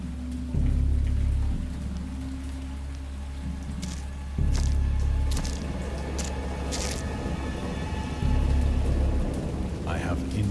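Thunderstorm with rain from the H.P. Lovecraft horror game Dagon: steady heavy rainfall with deep rolling thunder swelling in three loud low rumbles, plus scattered sharper drips and crackles throughout.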